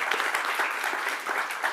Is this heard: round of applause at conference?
yes